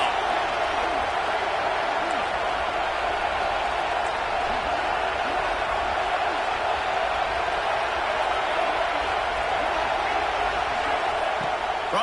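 Dense, continuous roar from a stadium crowd at a college football game between Ole Miss and Georgia, rising on a third-down defensive play, loud and steady throughout with broadcast commentary faintly beneath.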